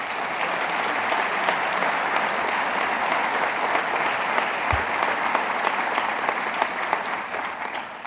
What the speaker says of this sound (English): And give yourselves another round of applause.